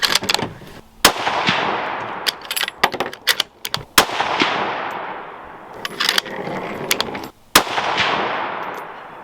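.308 rifle firing 180 grain ammunition in an accuracy test, sharp loud shots at irregular intervals, each followed by a long rolling echo, with no one speaking.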